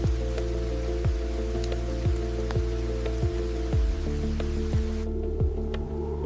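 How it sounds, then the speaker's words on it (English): Heavy rainstorm on the quartzite summit of Mount Roraima, a steady loud hiss of rain with regular heavy drops thudding nearby throughout. "The rain has not stopped."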